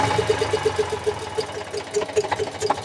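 Eicher 485 tractor diesel engine with a white smoke and starting fault, running near at a steady mid-pitched idle with a faint regular knock, slow to pick up revs, fairly quiet throughout.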